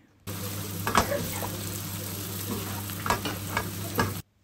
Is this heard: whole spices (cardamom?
yes